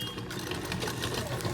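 A sewing machine stitches a pair of pants with a continuous, close mechanical whirr that holds steady from start to finish.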